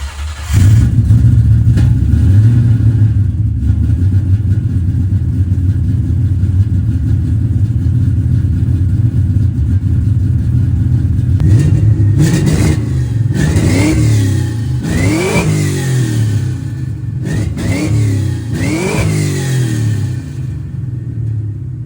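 A 1998 Ford Mustang Cobra engine fires up loud and close, settles into a steady rumbling idle, then revs sharply several times in quick succession during the second half, with no talking.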